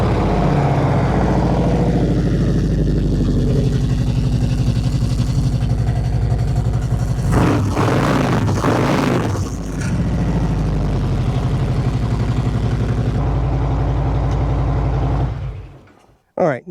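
2024 Harley-Davidson Road Glide fitted with a Trask Assault air cleaner, its V-twin engine loping at a steady low idle nearby for most of the clip before shutting off, with people talking over it partway through.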